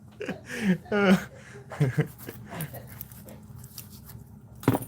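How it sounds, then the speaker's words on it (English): Dog in a video game making soft panting and whimpering sounds, mixed in with people talking and chuckling throughout. "There's a dog."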